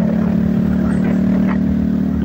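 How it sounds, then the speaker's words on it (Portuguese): A steady, loud motorcycle exhaust idles with a low rumble, continuous throughout with no talking; the drive chain makes no noise. "Faz o barulho que todo mundo gosta, que é o barulho do escapamento"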